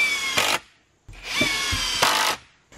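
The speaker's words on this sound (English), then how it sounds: "So I'm going to make sure I put plenty of screws in here and also these middle supports." A power drill drives screws into plywood for a shed build, with two close whirring bursts that rise as each screw bites and separate quickly, with no talk.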